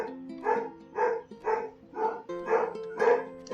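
Dogs bark repeatedly in a steady rhythm, about seven close, clear barks in quick succession, heard in the video game Marie's Room.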